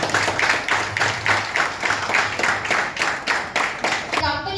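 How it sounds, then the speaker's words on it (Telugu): A seated audience at an Ayurvedic products company presentation claps in a steady, rhythmic burst of about a dozen beats, moderately loud and close, ending abruptly at the close. "ఒకసారి మీరు క్లాప్స్ ఇస్తే."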